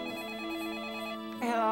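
A telephone rings with a steady, sustained electronic tone, heard faintly and alone, before a louder warbling burst swells at the end.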